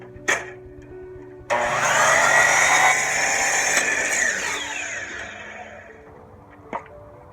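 A power saw fitted with a Kizen Mitre Fence Pro+ and 45-degree jig cuts an extreme angle. A click, then a loud, steady whine for about four seconds that winds down, with another click at the end.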